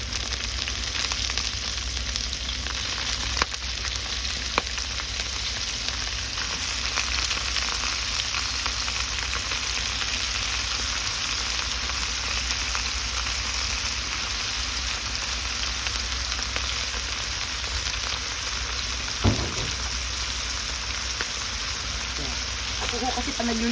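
Sliced eggplant frying in a pan for mabo nasu, a continuous loud sizzle with occasional scraping stirs and a brief clatter near the end, with no talk over it.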